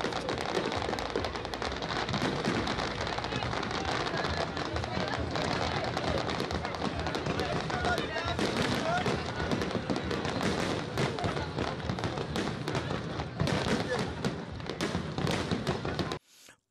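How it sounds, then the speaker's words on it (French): Firework shells detonating along the length of the Général de Gaulle bridge at a New Year's display, a dense continuous barrage of bursts and crackle lasting throughout, loud and close, with no clear pauses. "Les bombes des feux d'artifice installées tout le long du pont général de Gaulle tonnent"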